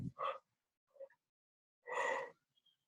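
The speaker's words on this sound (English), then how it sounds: "Forceful breaths, 3 forceful breaths." Three forceful breaths taken as part of an acupuncture-point clearing exercise: two short sharp exhales, a faint puff, then a longer loud gusty breath, close and with no talking.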